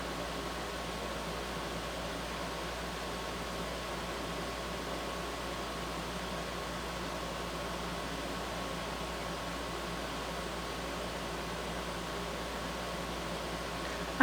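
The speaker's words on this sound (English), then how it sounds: "I hope the noise of my air conditioner is not." An air conditioner runs indoors on a hot day, a faint, steady hiss and low hum that stays constant with no change or voices.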